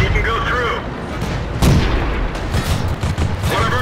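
Tank cannon fire in the World of Tanks video game, a single heavy boom about halfway through, with rumbling battle noise before and after and someone talking over it.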